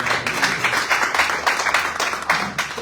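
A church congregation claps together in a burst of applause, dense rhythmic hand claps filling the room for a few seconds with some voices mixed in.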